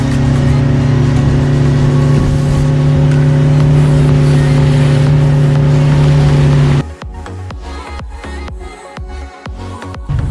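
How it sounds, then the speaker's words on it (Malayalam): Speed boat engine on the Banasura Sagar Dam reservoir, a loud steady motor drone with strong low harmonics that cuts off abruptly partway through, leaving splashy wind and water buffeting. "ബാനാസുര ഡാമിലെ ഒരു സ്പീഡ് ബോട്ടിങ് ഭയങ്കര രസം തന്നെയാണ്"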